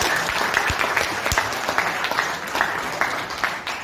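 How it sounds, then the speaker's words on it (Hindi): An audience claps together at a motivational talk, a dense, fairly loud patter of many hands with a few sharper single claps standing out, holding steady throughout. "देखिए कितने अच्छे लोग हैं, एक बार ताली हो जाए।"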